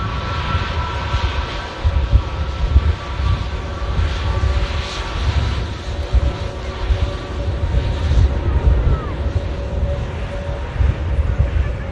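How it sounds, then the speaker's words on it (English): A KLM airliner rolls for takeoff on the southern runway at Manchester Airport, bound for Amsterdam, its engines a steady, broad, moderately loud roar and rumble that holds evenly throughout. "KLM cleared for takeoff."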